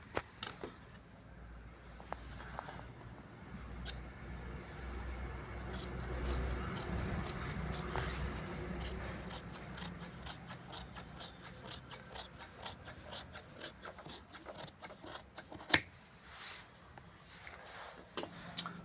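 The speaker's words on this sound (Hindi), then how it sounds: "ये ऐसे बिल्कुल बराबर करके इसको हम यहाँ से वहाँ तक काट लेते हैं।" Fabric for men's trousers being cut, heard as a long run of sharp, close mechanical clicks and snips in irregular rhythm over a quiet room, with one louder snap near the end.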